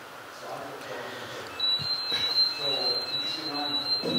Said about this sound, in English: The first one is where a gas alarm starts to sound.